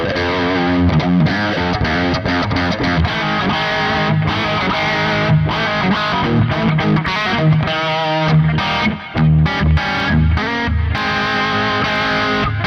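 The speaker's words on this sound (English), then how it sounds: "let's add some effects to this and hear how it sounds. Just kind of generic reverb and delay." An 80s-style electric guitar tone from a profiled Wangs 2204HW amp, drenched in reverb and delay, plays continuous distorted chords and riffs, loud and up front with no talking.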